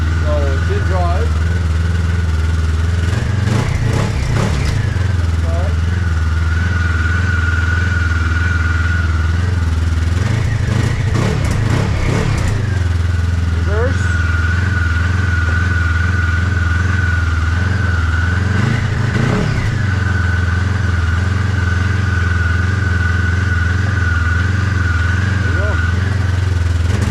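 A 2007 Yamaha Venture Lite snowmobile engine runs steadily in drive, a continuous droning hum with a sustained whine on top and a few brief swells in revs.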